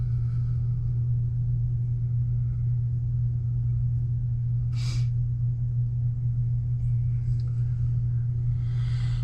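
A 1974 Chevy Nova with a 350 V8 and dual exhaust idles nearby with a steady, deep low rumble that holds unchanged throughout, with a faint brief hiss partway through.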